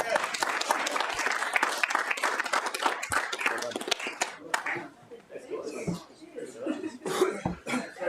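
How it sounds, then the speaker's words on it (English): Applause at a city council meeting breaks out as dense clapping, close and loud, then thins into scattered claps and coughs while voices murmur in the room. "a big round of applause for Brooke and Matt."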